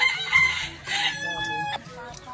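Backyard chickens crowing and clucking nearby as they are fed, a loud rooster call dominating briefly with fowl chatter around it, faint voices in the background.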